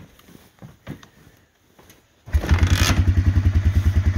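A cold 1990 Honda Fourtrax 300 ATV that won't crank electrically, with a few faint knocks of the kickstarter before the engine suddenly catches, then settles into a loud, steady, rapidly pulsing idle close by.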